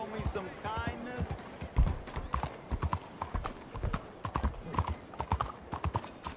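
Horse hooves clip-clop in a steady, close rhythm in the video game Red Dead Redemption 2, continuing throughout beneath a voice and background game sounds.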